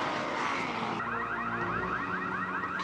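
A car alarm blares in the video game Resident Evil 6, loud and continuous, cycling through rapid repeating warbling whoops over a steady droning background.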